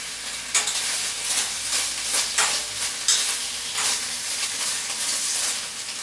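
Sauce and oil sizzling in a pan while bbq glazed falafel balls cook, a steady close hiss and crackle with bursts of spattering as food is stirred.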